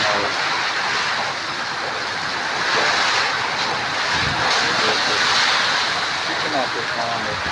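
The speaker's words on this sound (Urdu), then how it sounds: "ہوا بہت تیز ہوا ہے. بارش بھی تیز ہے." A strong windstorm with heavy rain in Layyah roars as a loud, continuous rushing wash with gusting swells, and a voice speaks under the storm noise.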